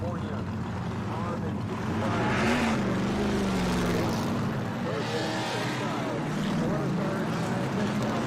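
A Corvette race car, number 31, roars through its side pipes at a historic racing reunion, its engine droning loudly and swelling as it revs, while people talk over it throughout.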